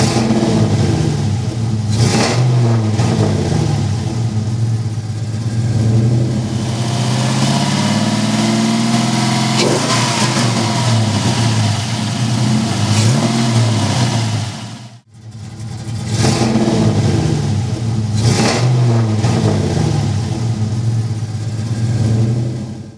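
A loud custom car engine revs hard in repeated surges and drops, with a brief cut-off midway before the throaty revving resumes, close and with no talking.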